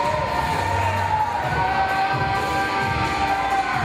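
An APCW independent wrestling crowd cheers and shouts for a favorite wrestler, a dense continuous roar of many voices with whistles and yells throughout.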